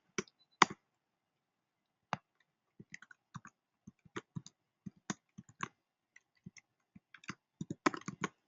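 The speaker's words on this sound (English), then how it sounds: "So I'm typing a lot of content." Someone types on a computer keyboard in a quiet room, producing sparse, irregular key clicks that quicken into denser bursts toward the end, close and fairly soft.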